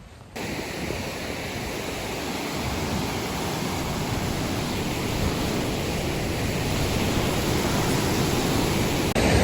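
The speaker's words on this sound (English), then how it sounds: "I don't know if you can hear me over the gargantuous waterfall. I'm sitting next to it." A large waterfall at High Falls Park roars close by, heard as loud, steady, unbroken rushing noise that fills the whole stretch with no talk over it.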